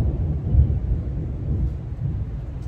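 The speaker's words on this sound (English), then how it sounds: "a thunderstorm in the middle of November? That's so weird." Low, sustained rumble of thunder from a November thunderstorm, steady and moderately loud throughout with no distinct crack, heard outdoors without talk.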